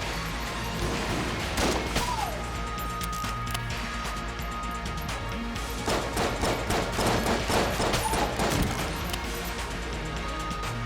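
Rapid pistol fire from a marine pistol in Enter the Gungeon, a steady run of sharp repeated shots mixed with crashes and game effects, loud and close throughout with a dense soundtrack underneath.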